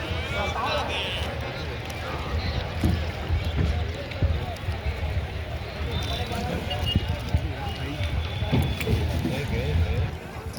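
A boat on the river at Prayagraj during the Magh Mela, with rumbling, splashing water noise running steadily throughout and people talking over it.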